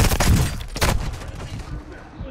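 Gunfire in a first-person shooter video game, several bursts of close shots in the first second fading into a softer rattle, heard under excited voices talking over the action.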